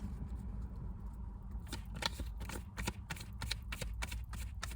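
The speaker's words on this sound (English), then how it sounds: "I am going to shuffle and then cut the cards" Tarot cards are shuffled by hand in a quick series of crisp riffling slaps and flicks, close and distinct over a low background hum, the pattering growing busier after a quieter start.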